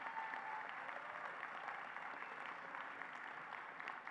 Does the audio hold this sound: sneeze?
no